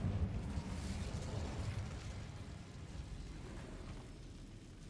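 An Incendio fire spell cast in Hogwarts Legacy gives a soft whooshing burst of flame inside a cave, strongest at the start and then fading into a low, quiet rumbling crackle.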